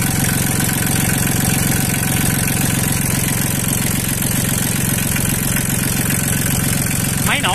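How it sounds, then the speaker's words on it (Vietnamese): A used Japanese Iseki tractor engine idles steadily and loudly up close, its rapid even chugging and knocking rhythm filling the whole stretch without a break. "Máy nổ rất đều và hơi giọng rất mạnh các bạn thấy không?"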